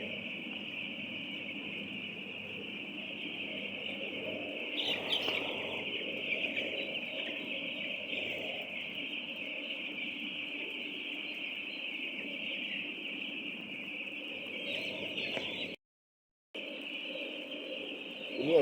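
Nine-day-old broiler chicks in an upstairs poultry house, a dense, continuous chorus of high peeping from many birds, fairly close and steady, with a brief break near the end.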